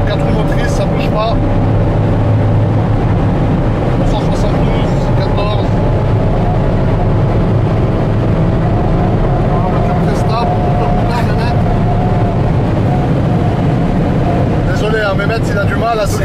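A Mercedes E63 with four-wheel drive cruising at very high speed on a German autobahn, a loud constant engine drone and road roar from inside the cabin, with someone talking over it throughout.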